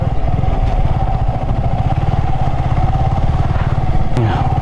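A motorcycle engine runs steadily close by with a dense low rumble while people talk over it, before the bike is parked.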